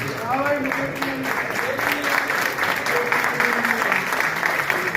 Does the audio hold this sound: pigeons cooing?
no